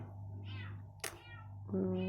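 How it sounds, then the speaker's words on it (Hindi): A small cat gives a couple of drawn-out, plaintive meows close by, separated by a brief sharp noise, over a low steady hum. "फिर से म्याऊ म्याऊ कर रही है"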